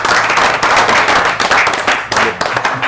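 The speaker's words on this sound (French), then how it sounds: "on peut encore les applaudir" An audience applauds a junior world champion pétanque team, dense sustained clapping from a nearby crowd that swells and dips over a few seconds.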